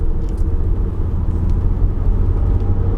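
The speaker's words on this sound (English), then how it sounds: "I think that's the electric Porsche" An electric Porsche passing on a road, heard as a steady low rumble and whir of tyres and motion that stays loud and even throughout, with no voices.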